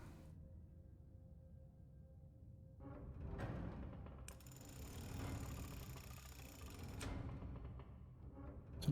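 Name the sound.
switch mechanism operating in video game The Room Three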